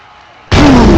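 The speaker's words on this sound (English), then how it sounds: "The mountain exploded like it was hit by an atom bomb." A mountain blows apart in a sudden explosion sound effect, half a second of low background hush giving way to a massive, loud broadband blast that holds steady as a roaring, rumbling wall of sound.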